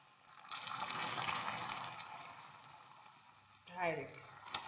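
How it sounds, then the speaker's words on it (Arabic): Water poured into hot caramel in a pan sets off a loud rushing sizzle that swells, holds for several seconds and slowly fades, followed by a brief bubbling gurgle near the end. "هاي نضيف لها ربع كاس ماء"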